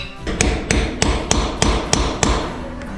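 Wall plugs are hammered into drilled concrete, with seven sharp, evenly spaced hammer blows ringing out close and loud, alone with no talk.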